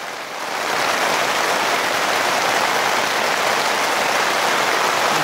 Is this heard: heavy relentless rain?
yes